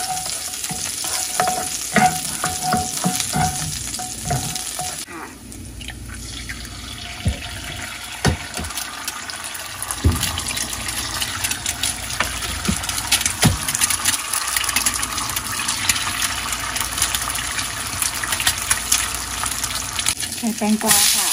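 Garlic and vegetables including cucumber and green chili sizzle and crackle steadily in hot oil in a pan, with intermittent clinks and scrapes of stirring, close by and continuous throughout.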